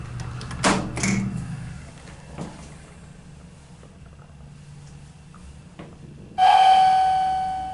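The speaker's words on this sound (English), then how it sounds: "That is a sick chime." A low rumble and a few thumps, then a loud, clear electronic arrival chime from a Montgomery hydraulic elevator in a department store rings out and sustains to the end.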